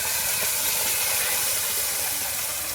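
Spices hitting a large batch of meat in a hot pan in a village kitchen, a loud, dense, unbroken sizzling hiss close up.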